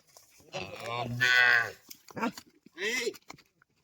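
A cow lows loudly with a calf arriving at a farm field during a New Year cow-worship visit, one long moo near the mic then a shorter call, with people talking around it.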